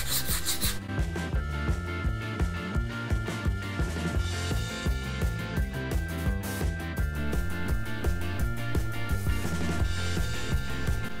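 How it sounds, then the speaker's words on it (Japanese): Sandpaper rubs a homemade canvas board to smooth it, a steady close scratching and rasping with quick back-and-forth strokes that continue without pause. "これサンドペーパーで軽く、いや、またツルツルにしていきます。"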